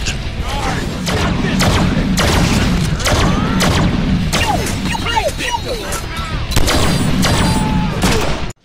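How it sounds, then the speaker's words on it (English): Rapid video game gunfire from Deadpool's pistols and shotguns, dense repeated shots and crashes running continuously under a busy action mix, with voices and chirpy effects mixed in. "you get the added bonus of Deadpool's gunplay with pistols, shotguns, submachine guns,"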